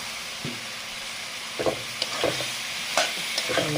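Tomatoes frying in a pan with well-fried spice masala for a tomato fish curry, with a steady soft sizzle broken by several scraping stirs of a spatula, close by and with no talking.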